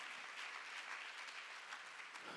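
Congregation at a Sunday church service applauding together, a dense, even patter of many hands that runs steadily from start to finish, heard at a distance and quite faint.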